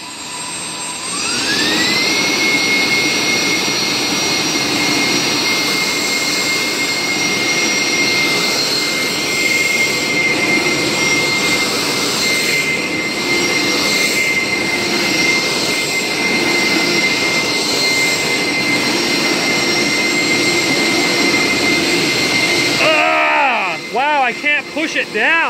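A homemade hovercraft prototype with a leaky inflated skirt, its engine held just off idle, gives a loud steady jet-like roar with a high whine that rises at the start, holds for over twenty seconds, then cuts off abruptly.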